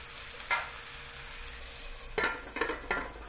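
Oil spitting and crackling inside a covered pot where a pink salmon head fries, with a steady low sizzle broken by a few sharp pops and clatters near the start and end.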